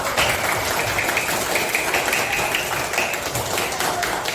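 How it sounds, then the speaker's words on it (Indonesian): A class of fourth-grade children clapping for themselves in a school lesson, a dense, even patter of many small hands held steadily for several seconds. "Kita tepuk tangan untuk diri kita sendiri."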